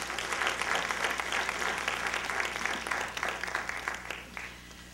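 Lecture audience clapping during a presidential lecture series, a sustained burst of many hands that thins and fades toward the end.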